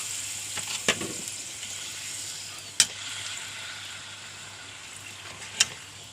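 Steady crackling sizzle of papadum frying in hot oil, fairly quiet and continuous, with a few sharp clicks of utensils against the pan.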